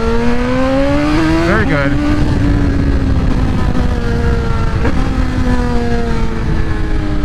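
A 2024 BMW M1000XR motorcycle accelerates hard in first gear, its engine note climbing loud and close with a brief shift-like dip before rising again, while a rider speaks briefly over it.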